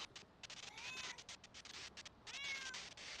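Several cat meows from the video game Pets Hotel, two main upward-sliding cries near each other over a steady bed of game noise, fairly faint with no talk.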